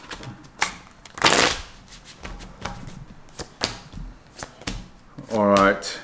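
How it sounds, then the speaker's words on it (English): Tarot cards shuffled by hand: quick riffles and sharp slaps in uneven bursts, close and loud, with one long riffle near the start and another at the end, between short stretches of a voice talking. "One more shuffle."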